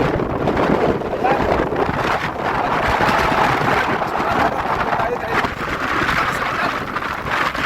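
Strong typhoon wind roars and buffets the microphone over a steady rush of crashing waves, loud and unbroken throughout.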